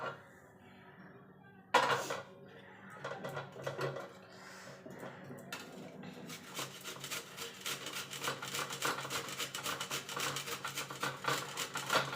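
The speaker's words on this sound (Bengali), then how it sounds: "প্রথমে গাজরগুলোকে আমি এরকম একটা গ্রেটারের সাহায্যে গ্রেট করে নেব" Carrots are rubbed over the coarse side of a hand grater in a kitchen. A clatter comes first, then a steady run of quick, rasping scrapes that grows denser and more rhythmic, close and fairly quiet.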